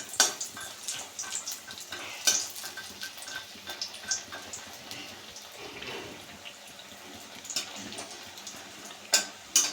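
Homemade urad dal badi fry in hot oil with a faint, crackling sizzle and occasional sharper pops and spatters, quiet and close.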